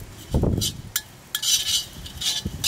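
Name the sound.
stirring coriander seeds and cumin dry-roasting in a pan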